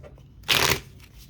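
A deck of tarot cards is shuffled in one quick, close riffle lasting about a third of a second against a quiet room.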